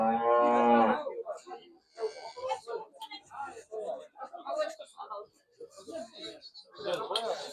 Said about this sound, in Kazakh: Мына сиыр.